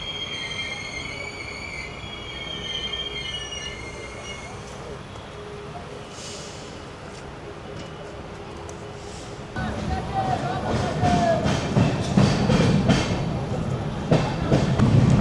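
The Amrit Bharat Express from Sealdah to Varanasi runs on its rails past Gobra, first a quieter rolling hum with faint metallic squeal, then a louder, nearer rumble of wheels and carriages swelling through the last seconds.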